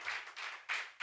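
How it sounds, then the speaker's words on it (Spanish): Short bursts of congregational clapping in a church service, three or four swelling waves of hand claps at moderate distance, fairly soft, with no talk over them. "levántale un aplauso al Señor"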